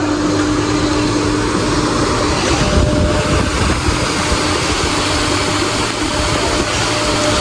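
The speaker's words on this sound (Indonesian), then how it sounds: "di sini saya akan melakukan pengukuran RPM pada pompa sentrifugal" A centrifugal pump runs continuously at around 3000 RPM, giving a loud, steady mechanical drone with a constant hum and no pauses.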